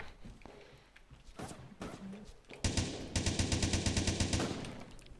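In the blocky shooter game Blockstorm, a few scattered single shots ring out, then a sustained burst of rapid automatic gunfire rattles loud and steady for several seconds.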